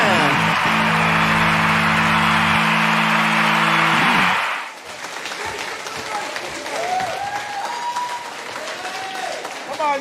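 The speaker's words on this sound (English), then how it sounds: "Come on, you gotta make more noise than that. Clap your hands, everybody." A studio audience at a live comedy show claps and applauds loudly for about four seconds, then the applause drops away under a voice.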